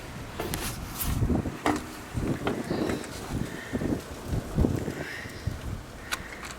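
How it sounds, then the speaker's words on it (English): Gusty wind buffets the microphone outdoors beside a tractor under repair, in uneven low rumbling thumps, steady throughout with no voices. "it's so windy"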